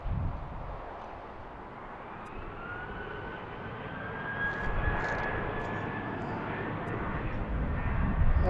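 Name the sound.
airplane taking off at BWI airport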